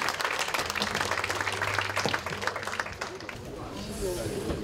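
Applause from an audience at a party assembly of lawmakers, a dense burst of clapping that fades out over a few seconds, with a voice over it.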